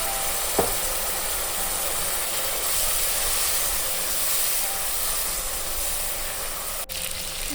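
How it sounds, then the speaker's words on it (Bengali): Spice paste with tomato, topped with ginger, garlic and cumin paste, fries in oil with a steady, even hiss of sizzling and no voices. "এখানে মশলাটা একটু ভাজা ভাজা হয়ে গেছে, তারপর দিয়ে দিলাম টমেটো আর উপর থেকে একটু আদা রসুন জিরে পেস্ট।"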